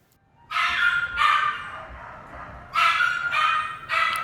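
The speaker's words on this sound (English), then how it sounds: "He's right there in the foreground where the dogs howl." Dogs bark in loud bursts, a few close together, then a pause and more barking, with some whining between, echoing as if in an enclosed space.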